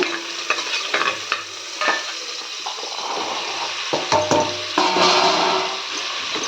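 Carrots, beans and knol-khol sauté in oil for bisi bele bath, a close sizzle with repeated scraping stirs and clatter of a spoon against the pan, no voices.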